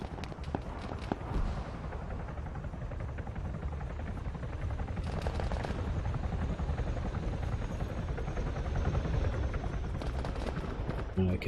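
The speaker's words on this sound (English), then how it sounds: "I can hear an enemy helicopter. I suspect it's that Huron again that's been flying around terrorising everyone." An enemy armed Huron helicopter in the Arma 3 military game, a steady rotor drone holding throughout at moderate distance, with sharp gunfire bursts cutting in now and then.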